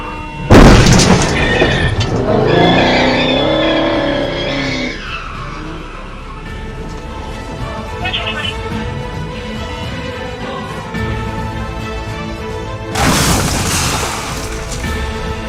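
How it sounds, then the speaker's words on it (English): A reckless driver in Nashville spins a car in donuts and then crashes into a police car, producing loud screeching tire skids and a heavy impact boom, followed by a long engine drone and another sharp burst of noise near the end. "A reckless driver in Nashville swerved across lanes and performed donuts before crashing into a police car."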